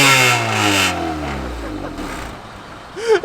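A Honda Civic's D15B7 engine revs hard through a tiny exhaust pipe, loud and close, then falls away into a lower idle with a brief squeal near the end.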